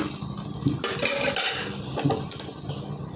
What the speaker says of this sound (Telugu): కొద్దిగా ఆయిల్ వేసుకున్నాము ఫ్లిప్ చేసుకుందామండి